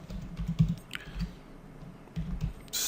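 Keys clatter on a computer keyboard in short, close bursts of quick typing with small pauses between them.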